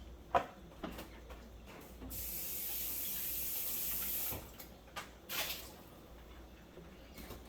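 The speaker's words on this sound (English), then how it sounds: "So for the meantime, you can wash your peppers." Tap water runs steadily into a sink while peppers are washed, a soft splashing stream lasting a couple of seconds, framed by faint handling clicks and knocks before and after, quiet and close.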